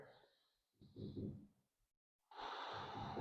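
Slow, close breathing during a yoga balance pose such as half moon or warrior III: three soft, airy inhale-exhale passes with short silent gaps, quiet and unaccompanied.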